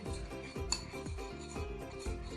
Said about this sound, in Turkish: Bunu güzelce karıştır.